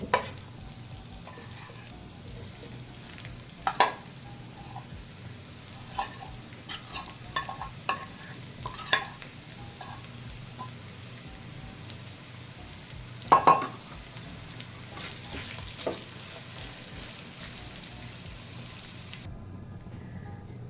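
Fenugreek seeds roasting in a pan for methi laddu, with quiet dry rustling and scattered sharp scraping clicks as they are stirred, fairly faint and close, with no talking.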